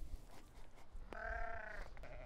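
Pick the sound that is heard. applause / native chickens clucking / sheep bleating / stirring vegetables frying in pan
sheep bleating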